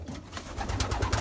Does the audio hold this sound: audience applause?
no